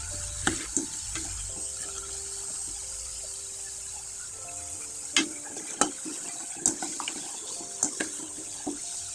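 Sun-dried rice flour pitha frying in hot oil, a steady fizzing hiss with scattered sharp crackles and pops that grow more frequent toward the end, close by, with no talk.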